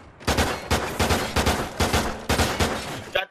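Rapid gunfire in a shooter video game, a wallbang through cover, with about eight loud, sharp bursts in a quick, fairly even rhythm, close and alone with no talking.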